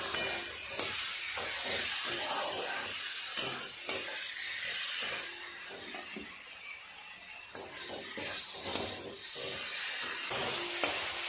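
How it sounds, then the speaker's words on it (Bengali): Fried potatoes being stirred with spice masala in a pan while making jackfruit kofta curry: steady sizzling hiss with repeated scraping and clinking strokes of a spatula throughout, close and fairly loud, no talking. "আলুগুলো দিয়ে আরেকটু ভালো করে কষিয়ে নেব, মশলা আলু সব একসাথে।"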